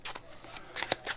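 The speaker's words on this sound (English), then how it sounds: "The overhand shuffle," Playing cards are shuffled overhand, giving a few quick, close, soft riffling and slapping bursts within about a second.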